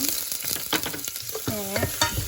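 Onion sizzling as it hits hot olive oil in a pan, a loud continuous frying crackle with brief clinks and stirring scrapes of a utensil.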